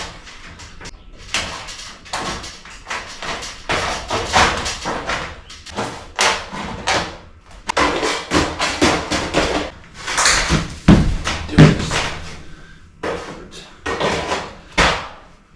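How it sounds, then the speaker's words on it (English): Hand snips cutting through metal, giving a dense run of sharp, snappy clicks and crunches over about fifteen seconds, loud and close with no talking. "I'll try to just do this with snips"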